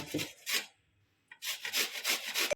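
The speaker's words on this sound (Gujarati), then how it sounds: "આવું છીણ થવું જોઈએ ત્યાં આપણે બધા છીણી નાખીએ" Indian gooseberries (amla) being grated for murabba, a dry rasping scrape in two short bursts, a pause, then a longer run of rhythmic rubbing strokes close up with no talk.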